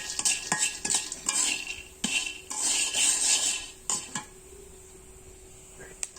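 Popcorn kernels popping in a pan on the stove before a lid goes on, heard as sharp irregular pops and clinks scattered over a faint hiss, loud at first and then thinning out toward the end.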